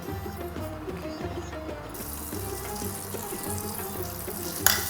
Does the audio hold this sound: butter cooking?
yes